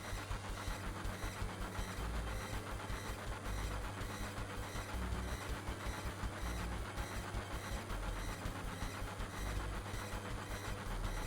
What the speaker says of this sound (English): Jump off the train, Tifa.